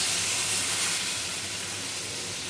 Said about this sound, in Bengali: এবার কড়াইতে পরিমাণ মতো জল দিয়ে দেওয়া